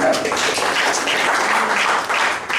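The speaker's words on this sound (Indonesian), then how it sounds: "Tepuk tangan." A church congregation applauds steadily during a worship service, a dense, even wash of clapping that stays loud throughout.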